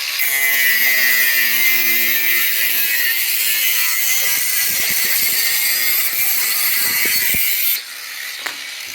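Loud, continuous high-pitched whine of an angle grinder cutting through a metal exhaust pipe on a van, throwing sparks, with a steady harsh grinding that holds for most of the stretch before dropping away near the end.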